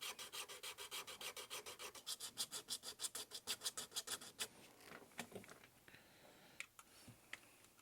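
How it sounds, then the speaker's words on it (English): A hand file rasps on a slot car box part, about twenty quick, even back-and-forth strokes close up. Then the filing stops and a few scattered clicks and scrapes follow. "I'm going to have to do just a little bit of filing to get that guy to slide in there just right"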